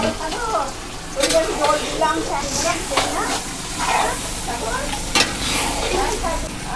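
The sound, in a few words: marinated meat added and stirred into frying masala over wood fire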